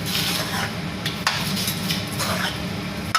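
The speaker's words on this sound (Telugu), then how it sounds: "బాగా ఉల్లిపాయలు ఇవన్నీ మొత్తం కలిసే విధంగా బాగా కలుపుకోవాలి" Prawns and onions being stirred in a cooking pan, a utensil scraping and clinking against the metal with a soft sizzle beneath and a couple of sharper knocks.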